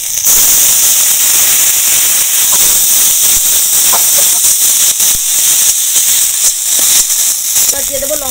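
Frying ginger paste with turmeric hisses loudly and continuously in a pan after a splash of water, a steady close sizzle with crackling bursts throughout while someone speaks over it.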